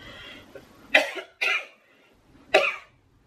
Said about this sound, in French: je suis prise d'une quinte de toux